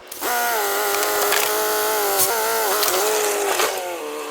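A ratchet on a damaged catalytic converter under a crashed Mercedes CLA, clicking steadily and loudly up close for several seconds with a whirring mechanical tone, no talk.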